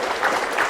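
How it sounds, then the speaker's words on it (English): Audience applauding after a horse-riding masterclass at an equestrian arena, a brief burst of continuous, even clapping throughout. "Just give them a round of applause."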